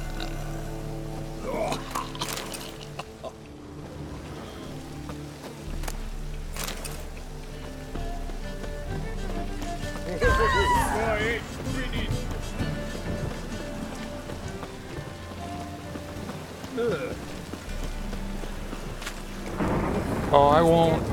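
Steady rain hiss with low rumbles of thunder rolling in and out in The Witcher 3: Wild Hunt, the game soundtrack and occasional voice underneath.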